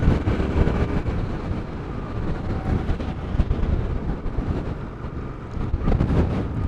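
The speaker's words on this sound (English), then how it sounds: "It is a windy day." Strong wind buffets the microphone in a continuous roaring rush with gusty low thumps, steady and close throughout.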